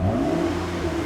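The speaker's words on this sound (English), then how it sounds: "they've put a catback exhaust on here" A 2020 Toyota Camry TRD with an aftermarket catback exhaust revs loudly and close by in a brief, steady burst of throaty engine and exhaust drone.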